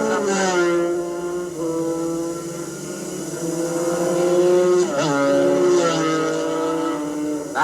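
Amateur 125cc GP racing motorcycles scream past at Shannonville Motorsport Park, their high two-stroke engines rising and falling in pitch as several bikes pass one after another, loud and close.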